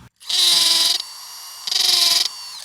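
A power drill whirs in two short high-pitched bursts, each about a second long, separated by a brief pause.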